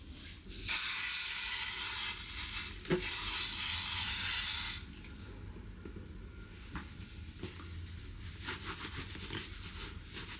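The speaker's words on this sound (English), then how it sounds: "So I got this sneaker cleaner, so waterproof for sneakers and leather." Waterproof sneaker cleaner sprayed onto sneakers in a long, loud, close hissing burst followed by a second shorter burst, then quieter background with faint handling noises.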